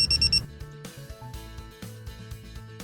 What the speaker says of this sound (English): You will hear 6 beeps and see a momentary flash from the red, blue, and green LEDs